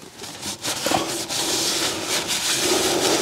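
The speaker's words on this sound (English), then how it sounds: "just gonna give the flywheel a quick clean down, just to get any oil or grease off" A rag rubbing across a BMW flywheel during a clutch replacement, wiping off oil and grease: steady, close scrubbing and rubbing strokes with a brief knock partway through.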